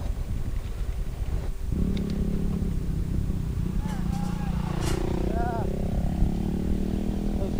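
A motorcycle passes on a muddy, sunlit rural road in Minalungao National Park, its engine drone rising and fading over steady wind and outdoor noise.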